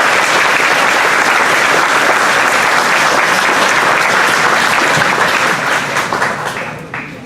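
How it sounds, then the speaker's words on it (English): Sustained audience applause for an honoree at a ceremony aboard the submarine USS Silversides, a dense, loud wash of clapping that holds steady for several seconds before thinning out near the end. "Now please give a big round of applause for Richard Mullally"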